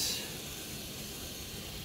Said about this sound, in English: Boiling along real nice.